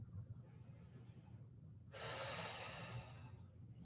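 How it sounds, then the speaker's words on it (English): A slow, deep breath during a relaxed yoga session, with a soft inhale followed by a louder, fuller exhale that rises and then fades over a low background hum. "we're going to take 5 more deep breaths"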